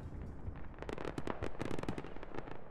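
A tank turret blows apart under RPG fire in a military video game, a rapid burst of crackling, popping detonations that crackle on for a couple of seconds at moderate distance.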